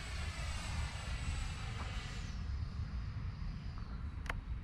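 Arrows RC Marlin 64mm electric ducted-fan model jet doing a touch and go, a faint steady whine with distant rushing air that shifts in pitch as it passes, no talk.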